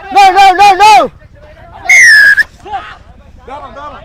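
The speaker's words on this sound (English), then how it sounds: "we heard that whistle for the first time after 3 minutes" A rugby referee's whistle sounds at a club league match between Air Force SC and Kandy SC, with three quick short blasts followed by one longer loud blast amid crowd noise and commentary.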